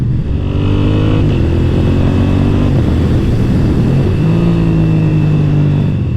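A motorcycle fitted with a Healtech quickshifter accelerates hard, its engine note climbing through quick successive gear changes with short dips between pulls, loud and close throughout.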